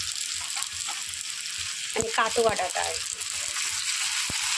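Eggplant, potato, pumpkin and drumstick stalks fry in a pan with a steady, bright sizzle, broken by scraping stir sounds while someone talks over the cooking.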